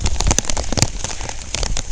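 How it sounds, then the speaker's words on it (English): Heavy rain from Tropical Storm Fay pounding down outdoors, a dense, close patter of drops hitting surfaces with scattered sharper splats, loud and continuous with no talking. "It's coming down even harder now."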